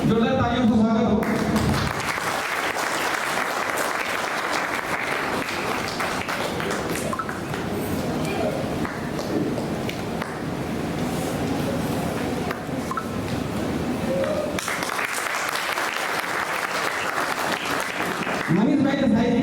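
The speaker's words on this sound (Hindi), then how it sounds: "जोरदार तालियों से स्वागत हो।" Audience at a public Shri Krishna Janmashtami gathering in Vapi claps to welcome guests, dense sustained applause from a crowd lasting many seconds, with a voice over a loudspeaker at the start and end.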